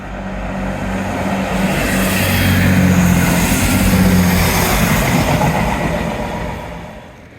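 A local passenger train running from Paignton toward Exmouth passes at a seaside walk, its broad rumbling roar swelling to a peak mid-pass and then easing off, loud and steady with no voices.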